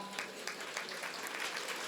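Brief scattered clapping from an audience at a book festival talk, faint and distant, with no speech over it.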